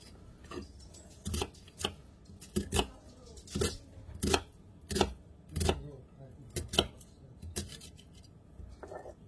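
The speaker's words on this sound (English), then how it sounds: "I want to cut this onion up fairly small" A knife chops an onion into small pieces on a cutting board, with a dozen or so sharp, close chops in an uneven rhythm and quiet gaps between strikes.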